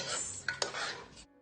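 A spoon stirs a spice mix of cardamom, cloves, black pepper and salt in a pot, a short scraping swish with a couple of sharp metal clinks.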